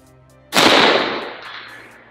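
A single rifle shot fired at a target 330 yards away, a sharp loud crack followed by a long fading echo and rumble over about a second and a half, with no talking.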